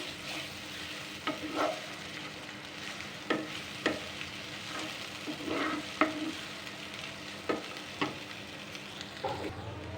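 Turmeric and ginger garlic paste frying in a pan for mutton keema, a soft even sizzle punctuated by regular sharp taps of a spoon stirring against the pan about once a second.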